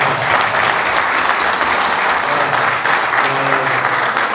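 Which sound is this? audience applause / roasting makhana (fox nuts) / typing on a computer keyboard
audience applause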